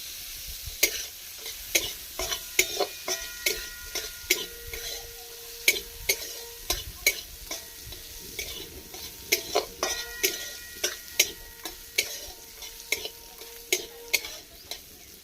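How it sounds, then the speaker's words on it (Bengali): Raisins fry in ghee in a wok. A steady sizzle runs throughout, with regular sharp clicks and scrapes as a spoon stirs against the pan. "ঘিয়ের সঙ্গে এটাকে ভেজে নামিয়ে রাখবো"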